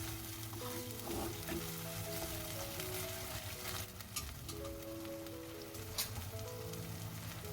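Brinjal kara kuzhambu masala frying in oil, a steady, close, dense sizzle and crackle with occasional faint stirring clinks, no voices.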